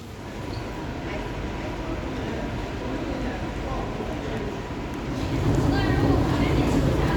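Changi Airport MRT station in Singapore fills the air with a steady, dense rumble of station and train noise that grows louder toward the end, with faint voices mixed in.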